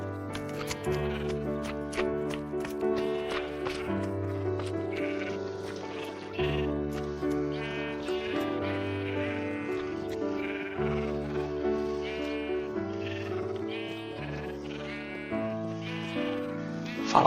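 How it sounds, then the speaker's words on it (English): Sheep in Minecraft bleat repeatedly while being released into a wool farm pen, overlapping calls over a steady busy background of game sounds, with no talking. "we can release the sheep"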